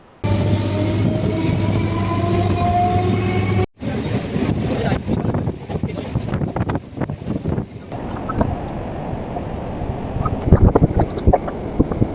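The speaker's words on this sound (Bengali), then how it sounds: "ট্রেন তার নির্দিষ্ট সময়ে ঠিক পাঁচটা বেজে কুড়ি মিনিটে শিয়ালদা স্টেশন থেকে আমাদের আজকে ট্রেন যাত্রা শুরু হলো" A Lakshmikantapur local train running out of Sealdah station at dawn: steady loud rumble and wind buffeting inside the moving carriage, with clanks and rattles, a brief cutoff, then continued rolling noise.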